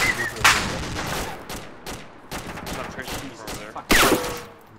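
Gunfire in the military shooter game Arma 2: several sharp shots and bursts echo across a few seconds, with a loud close volley near the end.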